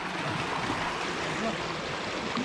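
River water rushing steadily in a Konkan village stream, a continuous broadband wash with no breaks, fairly loud and close.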